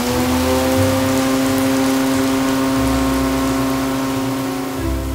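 Simulated rain is sprayed onto a test roof in a weathering rig, giving a dense, loud, continuous hiss. Steady mechanical hums from the test equipment run beneath it.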